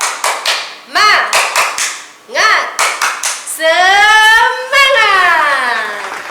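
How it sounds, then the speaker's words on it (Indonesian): Children clap a quick cheer rhythm, several claps in short rhythmic bursts close by, with young voices chanting between and over the clapping. "Sekali lagi, tepuk semangat."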